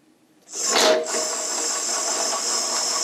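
A Record Power Herald wood lathe starts up and runs steadily at 500 RPM, a loud, close, even whine with a faint rattling beneath it and no voices.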